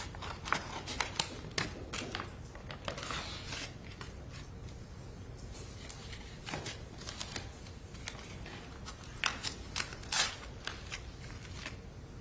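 Scissors snip in a courtroom, a steady series of short, crisp cuts and rustles close by, no voices.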